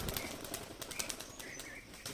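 Giribaj pigeons are released and take off, their wings flapping in quick soft bursts over faint background noise, fairly close and quiet, with light chirps here and there.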